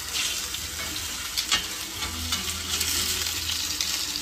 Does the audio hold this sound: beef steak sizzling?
yes